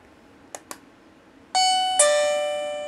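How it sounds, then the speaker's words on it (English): An inexpensive wireless doorbell bought online gives two soft button clicks, then sounds a two-tone electronic ding-dong chime that rings on clearly and close, with no voices. "So if you press the bell,"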